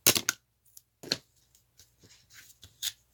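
Small mini scissors snip through tape with a few short, crisp cuts close by, separated by brief pauses and light handling noises during a craft project.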